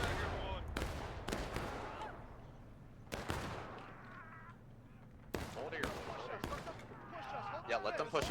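Musket fire in the Civil War-era game War of Rights, a series of sharp, widely spaced shots, some close and loud, others distant, with faint voices in the background.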